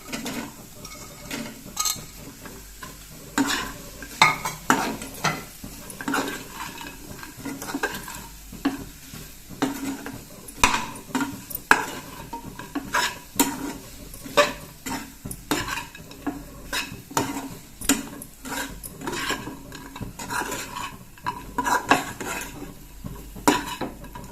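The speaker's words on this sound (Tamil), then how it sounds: "இப்போ சிக்கன் சேர்த்துக்கிறேன்." Chicken pieces hitting a hot pan for a capsicum chicken fry, with steady close sizzling and repeated scraping, clattering stirs of a utensil against the pan throughout.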